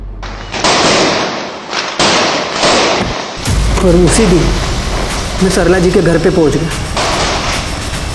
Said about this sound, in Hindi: दिवाली के शाम में पटाखों के बीच गन की आवाज़ कोई सुनेगा ही नहीं